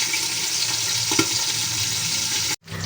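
Boiled pork pieces frying in a pan, a close, steady sizzle with a brief stir partway through, cutting off abruptly near the end before resuming softly.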